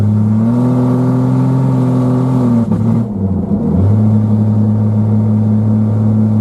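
A 1991 Jeep Cherokee engine runs loud and close with a steady drone, stumbling and breaking up for about a second midway before settling back, while a loud, failing fuel pump whines along with it.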